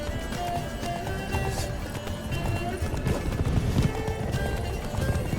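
Hoofbeats of a horse galloping in The Witcher 3, a steady rapid clatter running throughout at moderate loudness, mixed with game music and ambient sound.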